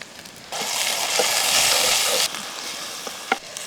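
Tomatoes sauté in a pan with onions, green chili and curry leaves, a loud close sizzle swelling for about two seconds and then easing, with a few stirring clicks toward the end.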